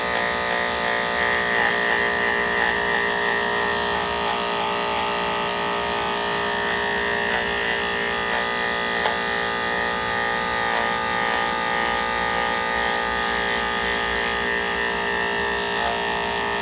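Hair clippers fitted with a 3.5 blade buzz steadily and loudly through Asian hair during a fade, a close, unbroken electric hum with faint cutting texture and no talking.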